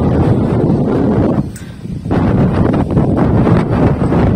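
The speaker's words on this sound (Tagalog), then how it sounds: "Lakas ang hangin dito" Strong gusts batter the microphone in a heavy, rumbling roar, dipping briefly before surging back, on a ridge farm in Pantabangan, Nueva Ecija.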